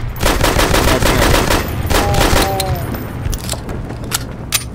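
Rapid gunfire from a video game, Hunt Down the Freeman, rings out as a loud burst of repeated shots, then thins into a few scattered single cracks with brief echoes.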